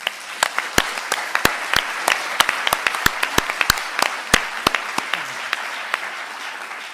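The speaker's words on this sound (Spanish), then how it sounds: "Les pido un aplauso para Demetrio." An audience applauds Demetrio at a talk on heritage accessibility, with sharp, distinct claps standing out above a steady wash of clapping for about seven seconds.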